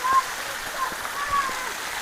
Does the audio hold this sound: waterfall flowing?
yes